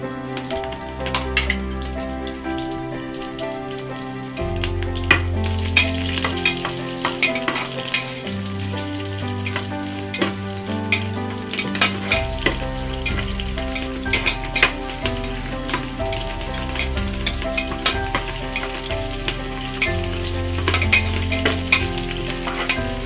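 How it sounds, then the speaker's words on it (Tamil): Shahi jeera and green chillies frying in hot oil for a vegetable biryani, a loud continuous crackling sizzle with frequent sharp pops and stirring scrapes, alongside steady background music. "ஷாஹி ஜீரா நல்லா பொரிஞ்செடுத்து நான் வந்து பச்சை மிளகாய் சேர்க்கிறேன்"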